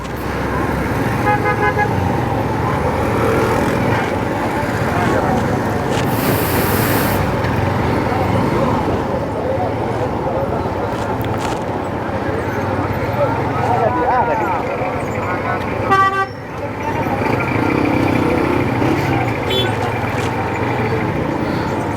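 Dense road traffic on the way from Quetta toward Ziarat, heard from a Honda CB150F motorcycle, with a constant loud roar of passing vehicles, several horn toots scattered through it, and someone talking over the din.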